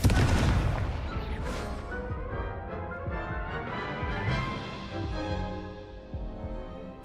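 A Confringo blasting spell explodes in a Harry Potter wizarding video game, a loud booming burst at the start followed by a rumbling, crackling tail that stays dense and noisy under game music.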